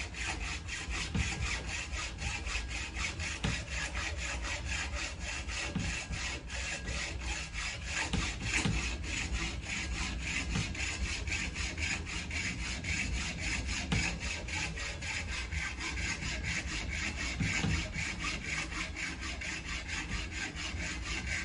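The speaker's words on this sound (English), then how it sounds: "And this is just your average hacksaw blade." A cheap hacksaw blade saws through deer antler in a steady back-and-forth rhythm, a continuous gritty rasping that stays close and even throughout with no talking.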